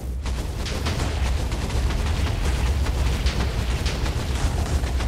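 Dense, continuous roar of Minecraft explosions as a Wither fires explosive skulls at block breakers, a steady rumbling barrage of blasts with no pauses for about five seconds.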